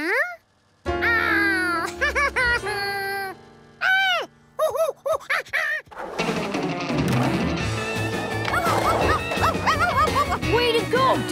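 A cartoon dog in a Curious George episode lets out a series of high, choppy barks and yips in quick bursts with short pauses, then music and busier sound swell in underneath.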